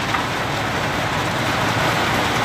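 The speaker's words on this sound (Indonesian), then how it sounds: "Hujannya deras teman-teman ya" Heavy storm rain at a mine pours down in a dense, constant roar of hissing, close and loud, with no pauses.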